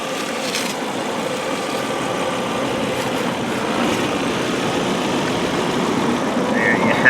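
A 2001 Volvo V70 XC AWD engine runs at a steady, quiet idle, a low even hum that stays constant and grows slightly louder toward the end.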